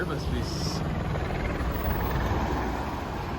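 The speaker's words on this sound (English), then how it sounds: "I literally hear a helicopter right behind the house" Helicopter flying just behind a house, a steady, loud rotor rumble and broadband whoosh that fills the whole moment without letup.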